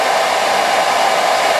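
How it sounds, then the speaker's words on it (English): A hair dryer blows steadily on high, pushing melted crayon wax across a sheet of paper; the close, loud, even whoosh of air runs unbroken with no voices. "the hairdryer splatted the crayon everywhere"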